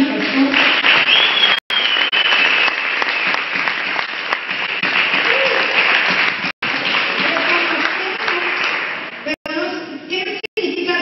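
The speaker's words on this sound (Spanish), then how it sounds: "Le das un aplauso de cariño al pastor." Loud, continuous applause from a church congregation for their pastor, filling the whole stretch with dense clapping broken by a few brief dropouts.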